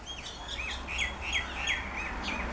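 A series of chirping calls from an Australian currawong, repeated about six times in a quick rhythm, moderately near, over a steady low outdoor background hum.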